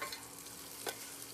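Biryani masala with onion, bay leaf and tomato being stirred and fried in a pan, a faint steady sizzle with one brief scrape of the spoon, no voices.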